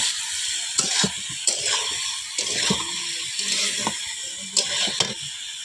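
Potatoes seasoned with salt and turmeric frying in oil in a kadai for chicken biryani, a steady close sizzle with intermittent scraping and clinking of a utensil against the pan.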